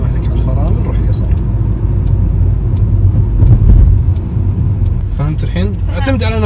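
Car driven by a learner driver on a road, with a steady low engine and road rumble throughout, a louder swell in the middle, and voices talking over it near the end.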